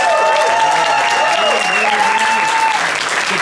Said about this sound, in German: Dann bitte jetzt euer Applaus für Metro Madrid.